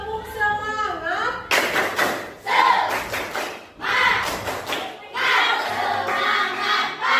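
Schoolchildren in a classroom do a rhythmic chant-and-clap routine, bursts of shouted syllables and sharp group claps in patterned phrases, loud and close, with a teacher's voice leading at the start.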